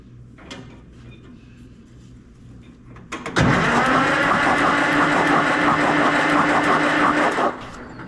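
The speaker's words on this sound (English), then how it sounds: "Let me crank it one more time." An old auction car that had been sitting for years cranks with a loud, steady starter whir for about four seconds, up close after a few quiet clicks, then cuts off abruptly.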